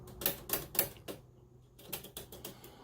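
Keys on an old, dirty 1940s–50s typewriter struck one at a time, a few sharp clacks in a loose rhythm followed by a lighter, quicker run of taps, close up with no talk.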